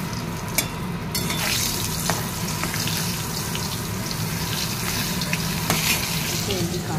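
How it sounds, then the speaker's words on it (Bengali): Pointed gourd (potol) frying in a pan in a home kitchen, a steady close sizzle with occasional clinks and spatter pops running throughout, no talking. "পটল ভাজছি।"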